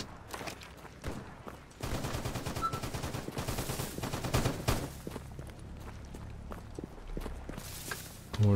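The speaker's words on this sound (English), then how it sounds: "What are they shooting at?" Rapid gunfire rattles in S.T.A.L.K.E.R. GAMMA near an army warehouse, dense bursts of automatic shots overlapping with footsteps, loud and close, easing into scattered shots before a final heavy burst.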